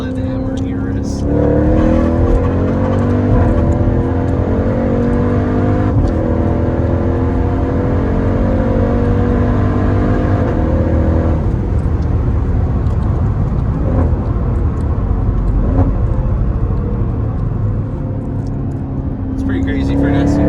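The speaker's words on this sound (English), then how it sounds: "And the supercharger whine is pretty crazy too." A supercharged 707-horsepower Jeep Trackhawk SUV revs hard, its engine roar carrying a rising supercharger whine, loud and continuous throughout, with people talking over it.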